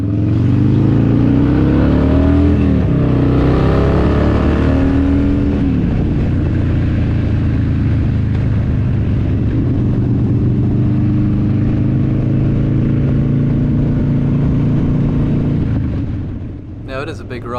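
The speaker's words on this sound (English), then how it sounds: "with 39 bikes you cannot get them all out at once" Motorcycles from a 39-bike Harley Owners Group ride leave a BP service centre and climb a highway on-ramp, engines droning and revving loudly and steadily for the whole stretch, with wind rush and a voice over them.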